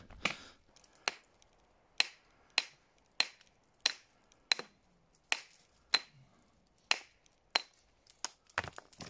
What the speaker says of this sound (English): I'll run the hammer chisel today to show you guys that.